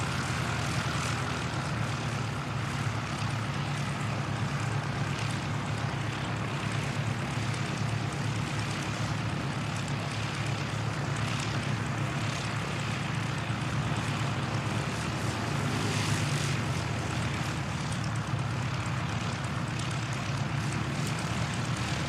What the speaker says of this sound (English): Got the black liveried ATR not too far out coming in from Nelson